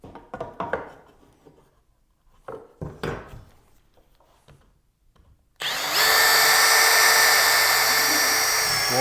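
A power drill driving a lag screw with a washer: a few handling clicks and knocks, then a loud, steady whirring drive that runs alone for several seconds.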